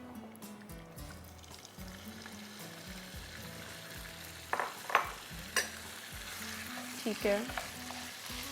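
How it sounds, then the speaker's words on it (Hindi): Chicken dropped into hot cooking oil sizzles and fries steadily for several seconds, with occasional louder spatters and pops near the end, close up in a home kitchen; a voice speaks briefly. "यहाँ पे हमारा ऑयल गर्म हो रहा है और इसमें हम डालेंगे चिकन।"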